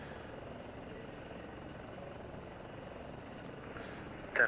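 A steady low engine drone of an aircraft departing in a flight simulator game, faint and continuous, rising slightly at the very end.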